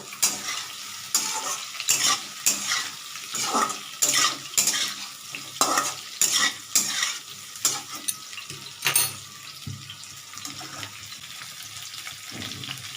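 Whole spices and dried red chillies frying in a pan over raised gas heat, with a utensil stirring them: repeated scraping strokes and soft sizzle, close and moderately loud, no voices.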